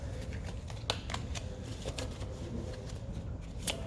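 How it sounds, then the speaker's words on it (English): Playing cards riffle-shuffled up close, giving a quiet, continuous fluttering with a few sharper snaps, no speech. "Let's do one more shuffle."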